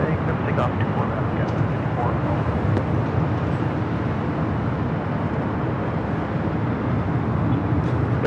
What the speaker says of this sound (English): United Dreamliner taking off 25 right.